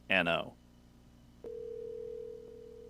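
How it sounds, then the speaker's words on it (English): A telephone tone sounds during a call, starting after a brief voice and holding steady and fairly loud to the end as a single continuous tone. "Oh, it's ringing."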